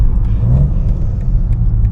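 A Genesis G80 engine rumbles steadily under load as the car pulls up through its gears, a continuous low drone with a brief rising surge, heard close from inside the cabin.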